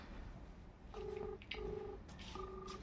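A telephone number is keyed in on a phone: three distinct dialing beeps, each about half a second long, separated by short gaps over a low background hum.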